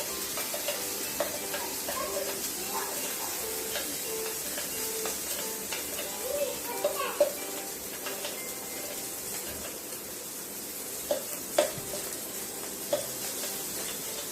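Pea purée cooking in a pan with cumin and asafoetida sizzles in a steady hiss while being stirred and roasted, with occasional scraping clicks from the spoon, close and continuous, and no voices.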